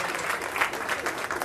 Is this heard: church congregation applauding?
yes